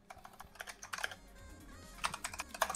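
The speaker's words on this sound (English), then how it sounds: "Yeah, I hear you typing." Typing on a computer keyboard in two quick bursts of clicky keystrokes, close and fairly quiet, with a brief lull in the middle and no talk.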